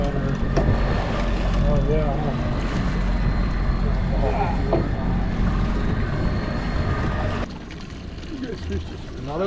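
A boat's main motor runs on an ocean fishing trip, a steady low rumble with wind and water noise throughout, while people talk over it.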